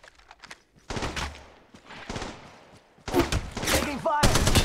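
Bursts of rapid gunfire from Apex Legends Mobile, sharp volleys that come in clusters after quieter stretches, growing louder and denser toward the end, with game voice lines speaking in between.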